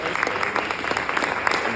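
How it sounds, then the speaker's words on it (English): Audience at a Toastmasters club meeting claps for a speaker, a brief steady patter of applause from a modest room of people. "let's give her a second round of applause"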